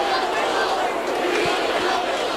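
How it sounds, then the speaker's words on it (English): A large crowd roars and chants in a rhythm at a 1997 Chicago Bulls championship celebration in Grant Park. The wash of voices is steady and dense, heard from within the throng, with nothing standing out above it. "Listen to the crowd now. We want the Bulls."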